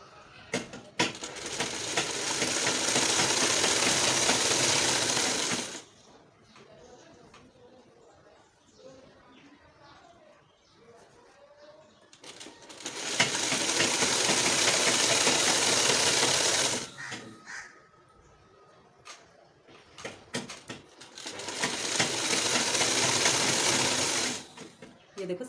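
A sewing machine stitches a kurti sleeve in three long, steady runs of rapid mechanical clatter, each lasting several seconds. Quieter stretches in between hold fabric handling and small clicks.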